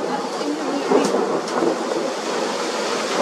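Dense, steady rush of heavy rain during a hailstorm in Kharkiv, filling the whole stretch, with a faint low rumble underneath and no clear breaks.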